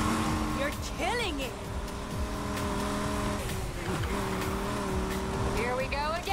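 A race car roars through Need for Speed Heat with engine revs rising and falling and tires squealing through turns, the game sound loud and continuous while someone talks excitedly over it.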